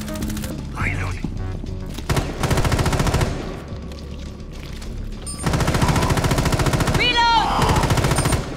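Automatic gunfire from the video game Rainbow Six Extraction, with loud rapid bursts and clattering shots across the span, mixed with game effects and a voice calling out in the game.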